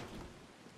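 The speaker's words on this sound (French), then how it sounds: "t'as pas envie de courir sous la pluie là?" Heavy rain in the video game Beyond: Two Souls: a dense, steady downpour with a low rumble underneath, heard briefly and without speech.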